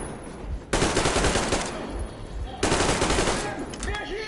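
Gunfire in the video game Metro Exodus: two loud bursts of rapid shots, each lasting over a second, separated by a short pause, with a voice speaking faintly near the end.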